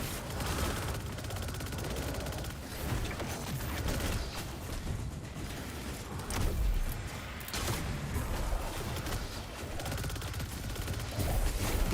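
Dense, continuous barrage of gunfire and void explosions from a Warlock's fight in the Destiny 2 Lightfall legendary campaign, loud and relentless with overlapping blasts and whooshes throughout.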